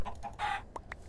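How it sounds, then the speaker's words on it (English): A Minecraft chicken gives a few short clucks in quick succession, close and clear over a quiet game background. "I just heard a chicken poop"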